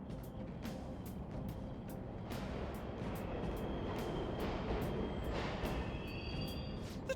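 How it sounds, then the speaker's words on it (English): Subway trains running in the Persona 5 Royal video game, a low steady rumble with faint metallic squeals and hiss, quiet and continuous with no talk. "The trains are totally running!"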